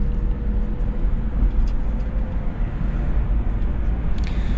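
Steady interior road and engine rumble from a 2008 Toyota Prius Grand Touring cruising on the highway, a continuous low drone with constant tire noise and no talking.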